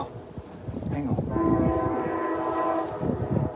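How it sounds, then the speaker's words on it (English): A train horn sounds far below from a river valley seen from a mountain bridge, a long sustained horn blast standing out over steady distant rail rumble and wind, faint and remote. "oh no, that's a train"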